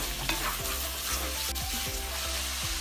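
Sliced onions, six of them, fry with cardamom and a bay leaf in a clay pot for a tuna fish biryani, giving a steady close sizzle with a low hum and repeated scraping stirs.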